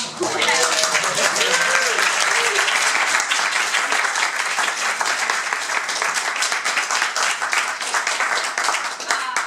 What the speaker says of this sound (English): the spontaneous applause probably says everything that needs to be said